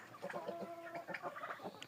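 Soft, rapid clucking from a turkey, a string of short throaty calls close by, fairly quiet with no talking.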